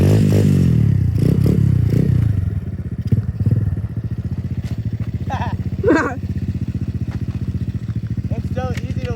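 A new dirt bike's engine runs steadily while it is ridden, a loud buzzing drone with rough clattering early on, and people talk over it.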